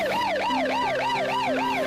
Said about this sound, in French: Sur le lieu, l'ambulance évacue les autres accidentés